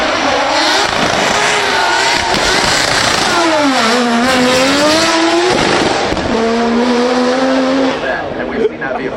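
A Corvette fitted with a rotary engine runs at the Goodwood Festival of Speed, a loud, buzzing engine note rising and falling through revs and passing close, with a commentator talking over it.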